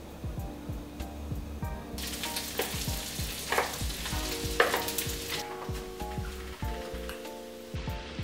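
Pork sisig sizzles and crackles steadily on a hot cast iron plate with butter, with intermittent louder spits and scraping sounds, fairly close and without talk.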